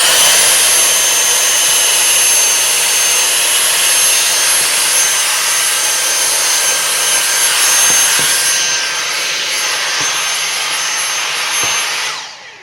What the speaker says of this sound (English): You can see the power that this Hoover has because it's sucking it when I'm not even anywhere near it